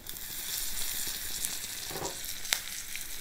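Asafoetida, mustard seeds and curry leaves tempering in hot oil for drumstick sambar, a close, steady sizzle with a few sharp pops and crackles breaking through near the end.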